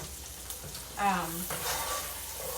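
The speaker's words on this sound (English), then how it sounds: "I'm just going to toss these onions around for a minute" Onions sautéing in a pan while making chicken pasta with a creamy white sauce, a steady close sizzle that swells as they are tossed around, with a faint voice in the background.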